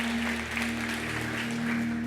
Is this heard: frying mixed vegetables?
no